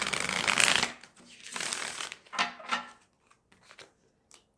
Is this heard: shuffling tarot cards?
yes